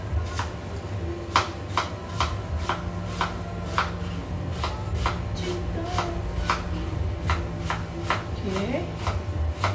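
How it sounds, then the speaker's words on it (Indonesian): Knife thinly slicing onions (bawang Holland) on a board while preparing sambal telur: a steady run of crisp, evenly spaced chops close up, with a voice speaking briefly. "So sekarang kita hiriskan dulu bawang Holland,"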